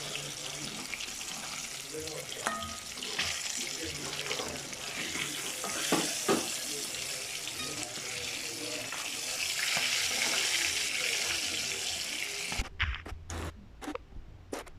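Fish fries village-style in a pan after being turned over, a steady broadband sizzle and crackle that swells at times, then cuts off into a few short knocks near the end, with a faint voice underneath.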